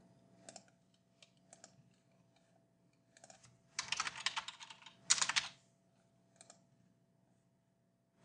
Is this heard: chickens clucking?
no